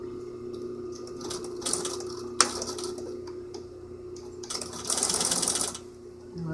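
A sewing machine stitches EL wire piping onto a self-lined hood, running in a fast, steady mechanical patter up close with a few louder bursts and ticks, and no talking.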